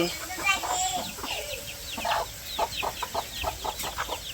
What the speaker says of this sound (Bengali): এই পাশে হচ্ছে আমার মার মুরগির বাচ্চাগুলা